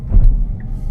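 Inside a Tesla Cybertruck moving onto a freeway on-ramp, loud road and motor hum fills a brief moment with no break.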